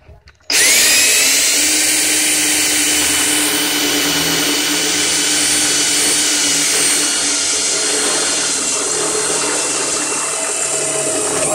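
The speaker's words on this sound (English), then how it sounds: "So here, I'm gonna drill about right there." A power drill bores a hole through the metal body of a Chevy HHR, a loud steady whirring grind that starts abruptly and holds for about eleven seconds, close up with no talk.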